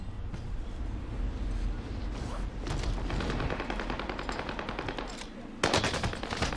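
Rapid automatic gunfire from a weapon in Call of Duty Warzone, dense crackling bursts in quick succession, loud and continuous with a sharp fresh burst near the end.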